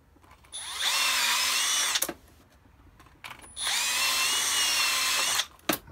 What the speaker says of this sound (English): we're gonna drill it.